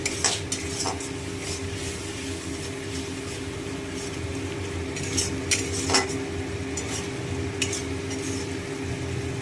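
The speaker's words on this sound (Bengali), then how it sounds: "আর একটু মশলাটাকে কষাতে হবে।" Spice paste for a catla fish curry being stirred and fried in a pan, with a steady sizzle beneath repeated scraping and clinking of a spoon against metal, close and fairly loud throughout.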